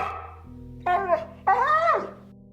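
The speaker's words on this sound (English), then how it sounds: "it let out a pitiful whine and started barking and snarling at Billy" A dog gives a short whine followed by two quick, close barks over a faint low hum.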